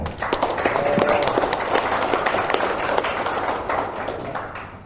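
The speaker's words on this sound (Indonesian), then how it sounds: "mari kita berikan aplaus untuk panitia" Sustained applause from an audience at the closing of a liturgical songwriting workshop, dense steady clapping lasting several seconds before fading slightly.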